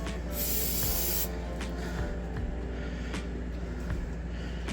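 Brake cleaner sprays into the intake of a 1993 S10 Blazer in a sharp hissing burst near the start, followed by softer spurts and engine-bay rumble.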